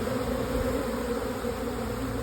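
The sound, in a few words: honeybees fanning and swarming at a nuc box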